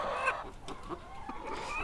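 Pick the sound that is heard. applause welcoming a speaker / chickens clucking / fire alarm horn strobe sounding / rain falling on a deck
chickens clucking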